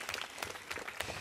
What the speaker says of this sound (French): elle mérite les applaudissements